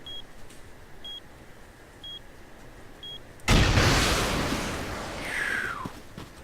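A rocket launcher's lock-on signal in the game Rust gives four evenly spaced short, high beeps. A loud rushing whoosh from the launch then takes over and fades off.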